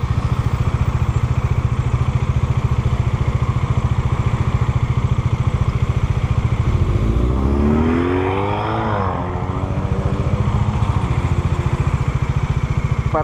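Bajaj Dominar 400 motorcycle engine runs loud and close in a steady rumble, then revs upward in a rising, accelerating whine before settling back to a throbbing idle.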